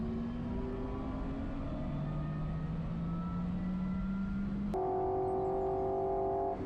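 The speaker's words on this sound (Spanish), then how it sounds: "Sonido particular de este Porsche Taycan Turbo." A Porsche Taycan Turbo drives with a steady, close electric whine and low rumble. Its tone glides slowly upward, then jumps to a higher, brighter pitch after a sharp click.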